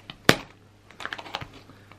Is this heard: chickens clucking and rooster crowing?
no